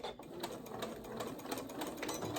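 A home sewing machine runs continuously while back stitching a seam on pajama pants, a steady close whirring with rapid needle ticks throughout.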